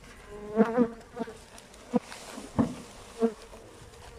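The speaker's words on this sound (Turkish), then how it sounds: "Uçmuyorsa bunlar yeni arılardır. Şimdi birazdan bu kovana girecekler." Honey bees hum and buzz around an open hive during a beekeeper's inspection, a close droning swell that rises in several louder bursts as individual bees pass near, with no one talking.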